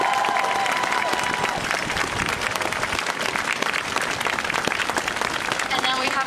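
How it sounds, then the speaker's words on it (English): Crowd applause at an outdoor anti-Asian racism rally in Nathan Phillips Square, a steady wash of many hands clapping with scattered cheers for volunteers and marshals, sustained and fairly loud throughout. "Please give them a round of applause."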